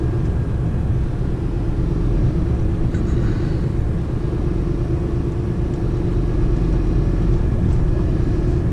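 A truck driving in a bus lane, heard from inside the cab as a constant low engine and road rumble that holds evenly throughout, with no talk.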